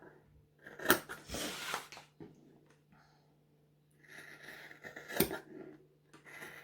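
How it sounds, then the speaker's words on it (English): Sewing scissors snip through vinyl in a few slow, deliberate cuts, each a crisp close-up crunch and slide separated by quiet pauses. "of all my scissors, I like cutting vinyl best with these ones"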